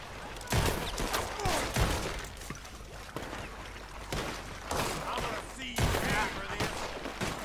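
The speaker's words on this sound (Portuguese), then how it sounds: "Fui obrigado a atirar." Gunfire from the Red Dead Redemption 2 Online sheriff mode: a few sharp, loud shots crack out at irregular intervals over a dense, busy game soundscape.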